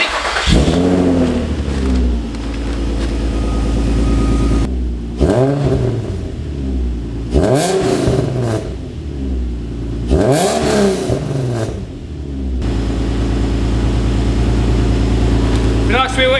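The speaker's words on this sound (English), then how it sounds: "Let's see what the new exhaust sounds like." A car fitted with a new cheap eBay exhaust revs repeatedly in loud bursts with idle between them, echoing under an open bonnet, close by and alone.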